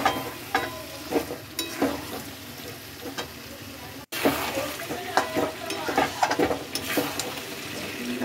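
A spice paste of ginger paste, chilli powder, turmeric and a little cumin paste fries in a pan with no water added, giving a steady close sizzle broken by repeated scraping stir strokes and a brief dropout midway.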